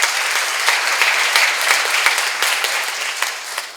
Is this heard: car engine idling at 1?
no